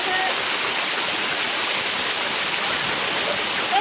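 Roaring waterfall at a wild swimming spot, a dense, continuous rush of falling water heard close and loud throughout, with nothing else standing out.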